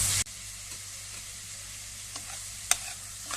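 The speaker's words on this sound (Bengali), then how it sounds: "মাছের মাথাটা কষানো হয়ে গেছে" A fish head sautéing in a pan gives a steady, soft sizzle with a few brief clinks of stirring, close and alone after a short louder start.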